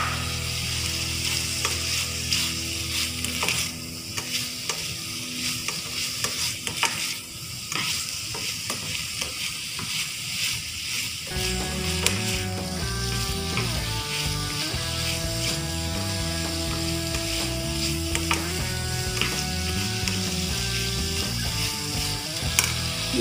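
Carrots stir-frying in a pan for vegetable noodles, with a steady close sizzle and frequent scraping, clacking stirs throughout; the frying grows busier and more rhythmic partway through, with no talking.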